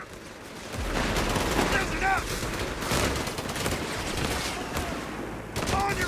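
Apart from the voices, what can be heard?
machine gun fire in video game Company of Heroes 3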